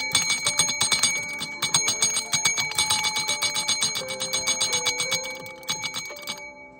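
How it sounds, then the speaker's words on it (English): Desk bell struck rapidly and repeatedly in a room, a bright metallic ding ringing in a steady fast rhythm with overlapping tones that sustain and fade at the end. "I need to bring in this darn bell in here"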